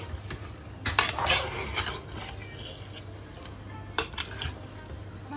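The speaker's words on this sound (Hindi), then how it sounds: "अब हम इसे अच्छी तरह से चला लेंगे और 10 मिनट तक ढक के पकाएंगे।" A spoon scrapes and stirs soya keema in a pot, soft rubbing and stirring with a few clinks against the metal, quiet and close, over a faint low hum and a light sizzle.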